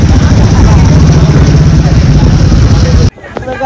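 A tractor engine rumbles loud and close as it drives along a flooded road in Virar during heavy rain, the dense roar cutting off abruptly near the end.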